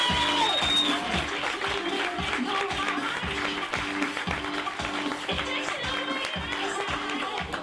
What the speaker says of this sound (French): je veux un tonnerre d'applaudissements